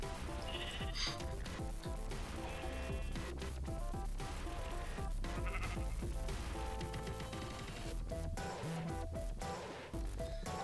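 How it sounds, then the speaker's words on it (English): Blocky Minecraft sheep bleat over a dense, steady bed of game music and layered effects, the short wavering calls mixed fairly far down rather than standing alone. "Up here with the sheep."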